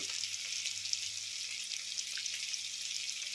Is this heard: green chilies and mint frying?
yes